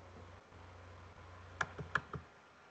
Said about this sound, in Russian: Два раза кликаем.